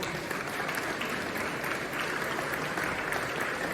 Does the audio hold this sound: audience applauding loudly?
yes